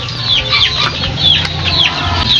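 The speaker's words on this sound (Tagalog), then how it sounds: "Pakita mo naman yung mga manok dito." Several chickens cluck and chatter in a backyard coop where a broodcock is kept, short repeated calls overlapping against a steady low background hum.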